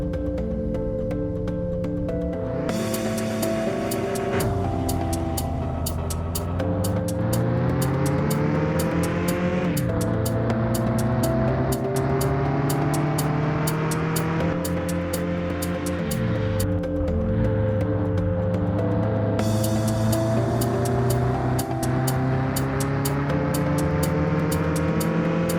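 Race cars in the Mon Bazou video game, engines revving hard with rising and falling pitch sweeps as gears shift, a steady, moderately loud drone of motors running alone without talk.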